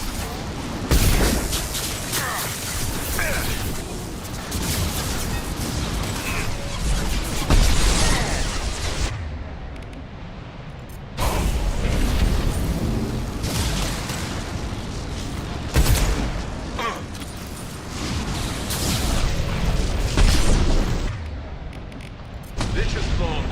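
Thrown grenade-style explosive detonates in Mass Effect 2 amid ongoing sci-fi combat, with loud bursts and booms over continuous battle noise and gunfire, and a brief lull before the fighting resumes.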